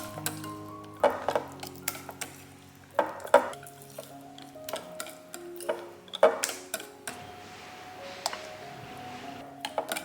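Egg yolks are stirred into batter for a lemon castella cake in a bowl, giving quiet, irregular taps and clinks of a utensil against the bowl over soft scraping, without talk.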